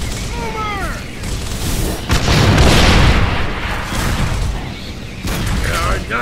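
A gas bottle blows up in the Gears of War video game, a loud deep boom with rumbling blast noise amid battle sounds, gunfire and voices.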